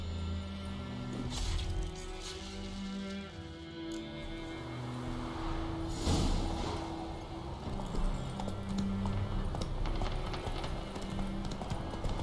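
Horse hooves clip-clopping in The Witcher 3, a steady rhythmic trot heard close up over ambient outdoor game sounds and a low background hum.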